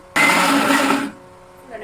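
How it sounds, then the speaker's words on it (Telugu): A kitchen mixer grinder blends tomato, mint and green chilli chutney in its jar, a loud, steady whirring burst close by that lasts about a second before cutting off. "ఇప్పుడు ఒక్క మళ్ళీ మిక్సీ జార్లో వేసుకొని పెట్టుకుంటున్నాను"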